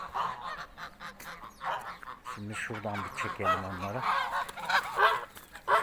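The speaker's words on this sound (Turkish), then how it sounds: "Kazlar girdiler içeriye." Domestic geese honk repeatedly in a loud, busy chorus close by, with calls overlapping throughout and someone speaking over them.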